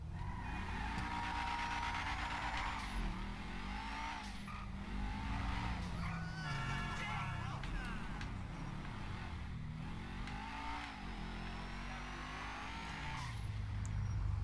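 A modded BMW M4 in GTA V roars loudly throughout, its engine revving up and down with rising and falling pitch sweeps, while tires squeal and skid between gear changes.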